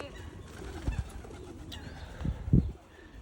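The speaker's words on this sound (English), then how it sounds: "Cooing." A pigeon or dove coos softly in a few low, throaty bursts over faint background noise, the last one the loudest.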